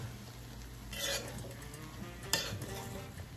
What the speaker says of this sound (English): We're going to give our rice a one last stir.